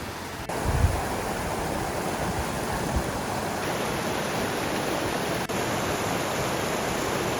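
A river rushes among large rocks on a mountain trail in Oita, Japan, making a steady, loud, broadband roar of flowing water that continues unbroken throughout with no voices.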